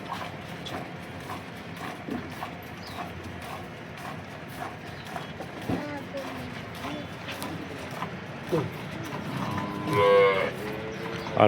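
Local Banaskantha cows moo from a cattle shed at milking time, several drawn-out lowing calls, the loudest near the end, over steady barn background noise with faint hoof clatter and some voices.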